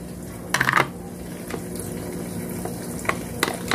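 Bacon pieces frying in a covered pan, a steady close sizzle with a few sharp clinks and taps of utensils or lid against the pan, no talking.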